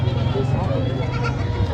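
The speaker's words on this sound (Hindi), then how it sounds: "राजनपुरी बकरी है जी।" A Rajanpuri goat bleats at a busy livestock market, its calls running together over a steady crowd murmur and nearby voices.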